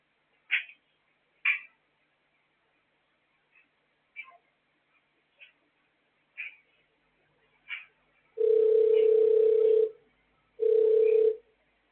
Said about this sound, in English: The number you have dialed is currently busy.